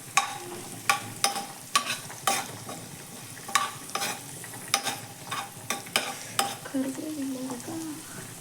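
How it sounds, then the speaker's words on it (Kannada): A soft, steady sizzle of green chillies frying in oil in a pan, punctuated by repeated sharp clinks and scrapes of a utensil against metal, close and moderately quiet. "ಈಗ ನಾನು ಇದಕ್ಕೆ ಮೆಣಸಿನ್ಕಾಯಿ ಹಾಕ್ತಿದ್ದೀನಿ"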